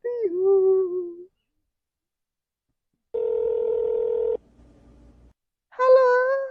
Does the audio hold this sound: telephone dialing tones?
yes